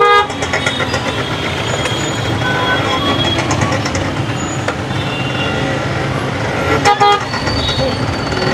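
Busy Kalyan road traffic near the Sai Baba temple, a dense steady rumble of vehicles with repeated car and truck horns honking near and far throughout, voices faintly in the mix.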